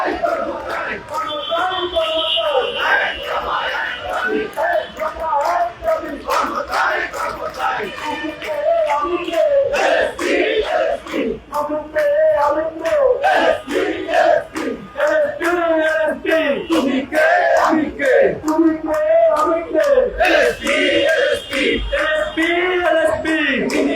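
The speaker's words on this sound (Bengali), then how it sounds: "প্রেস ক্লাবের সামনেই অবস্থান করে এলএসপি কর্মচারীরা দীর্ঘ সময় পর্যন্ত তারা স্লোগান দিয়ে যাচ্ছেন" LSP employees protesting in front of a press club chant slogans together as a loud, continuous crowd, with voices rising and falling in steady rhythmic calls.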